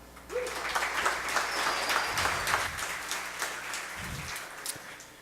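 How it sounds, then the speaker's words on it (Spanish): A tech event audience in Medellín applauds as speaker Jonathan is introduced, a fairly quiet, even patter of clapping from a moderate distance with a couple of low thumps. "Los dejo con Jonathan, un aplauso."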